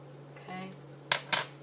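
A teaspoon scooping baking powder gives a soft scrape, then two sharp metallic clinks close together near the end, close and clear in a quiet kitchen.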